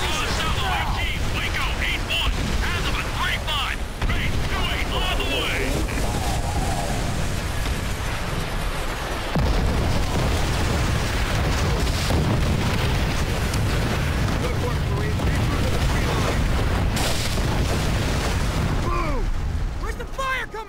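Rocket strike explosions from Call of Duty: World at War hit a beach battle, with dense, rumbling booms and bursts layered over continuous combat noise and shouted voices.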